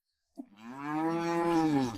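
A cow on a mountain village road lets out a single loud, close moo that swells and sustains for over a second after a brief grunt, with no talking.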